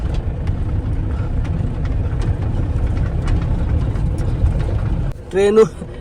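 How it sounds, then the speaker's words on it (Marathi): A car engine idles nearby with a steady low rumble that runs continuously, then briefly gives way to a short tonal sound near the end. "एक गाडी तर आली आहे."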